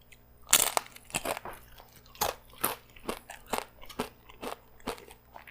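Tortilla chips with guacamole being crunched and chewed up close, a string of loud, sharp crunches coming in an irregular rhythm about every half second, with no talking.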